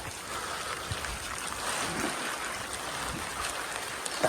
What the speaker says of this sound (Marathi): पाऊस पडतोय आणि रेनकोट आम्ही घातलाय आणि फिरतोय बस